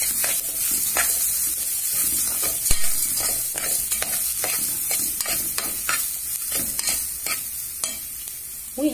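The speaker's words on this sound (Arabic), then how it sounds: "وهنزل كمان بالجزر وهقلب كله مع بعض." Carrots are stirred in a sizzling pot for a soup with chicken liver and gizzards; a continuous fry hiss runs under repeated scraping, clinking spoon strokes at close range.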